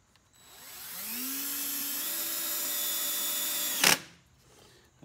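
A power drill drives an 8x1 wood screw into a stair tread bench, motor whine rising in pitch and holding steady, then a sharp clatter as the screw seats and the drill stops, close and alone.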